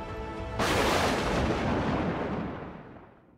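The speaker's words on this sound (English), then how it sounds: "This is way too many explosions." A massive explosion from a fantasy battle bursts in after a half-second lead-in, a loud, broad roaring boom that rumbles and slowly decays over several seconds with no voices.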